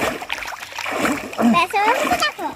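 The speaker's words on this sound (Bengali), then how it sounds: "গৌতম দাদা সাঁতার কাটা শুরু করেছে" Someone swimming in a village pond splashes the water in quick bursts, close by, while people talk and call out over the splashing.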